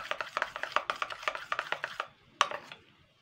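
Flour batter thinned with water being beaten in a bowl, a quick steady series of tapping, slapping strokes, faint and close, ending with a single sharper knock.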